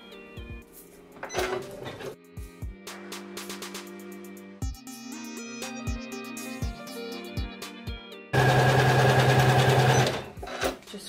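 Janome 550E embroidery machine stitching a tack-down line on sublimated fabric in the hoop, a steady rapid mechanical whirr with short pauses and bursts, ending in a louder, denser run near the close.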